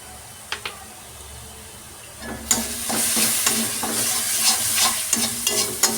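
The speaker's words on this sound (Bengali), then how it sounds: "মশলাটাকে এবার পাকিয়ে নেবো।" Ground spices with cumin powder, salt and garam masala frying in a kadai, stirred steadily with a spatula; a quiet start gives way to loud, continuous sizzling with repeated scraping strokes.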